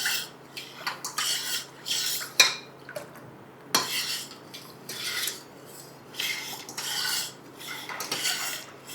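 A spoon stirs honey into amla juice, clinking and scraping against the container in repeated bursts, close and clear with no talking.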